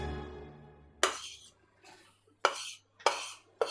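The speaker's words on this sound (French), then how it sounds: "je vais mélanger du sucre glace avec de l'eau, tout simplement" Icing sugar and water being mixed in a bowl, with a few sharp clinks of a utensil against the bowl, each followed by a short scraping stir, heard close and alone.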